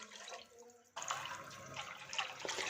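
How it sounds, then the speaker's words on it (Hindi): Water pours from about one second into a wok of chickpeas, starting suddenly as a steady, moderately loud splashing rush that continues to the end, with faint background noise before it. "इसमें खूब ढेर सारा पानी शामिल करेंगे और इसे उबाल लेंगे।"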